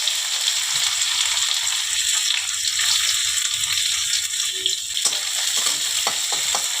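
Chopped onions sizzle loudly and steadily in hot mustard oil with panch phoron, a dense crackling fry with a few sharp utensil clicks toward the end.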